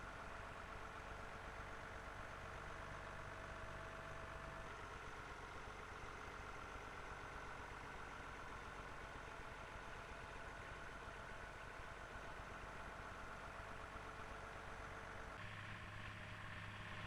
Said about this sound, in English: this 1004 tractor, which loads the trailer from this rotting heap of sugar beet